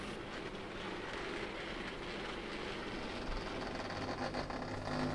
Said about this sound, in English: the Class 121 departs with the stopping service to Newquay.